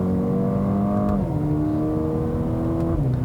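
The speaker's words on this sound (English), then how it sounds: "The four-cylinder actually is pretty smooth and it revs hard." A 2020 Mercedes-AMG CLA 35 four-cylinder engine drones under load, its pitch rising steadily then stepping down as gears shift, loud and continuous without any talking.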